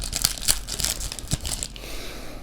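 A foil trading card pack for Select 2020 Footy Stars torn open by hand: close, loud crinkling and ripping in quick bursts over about two seconds, then fading to a softer rustle, with no talk.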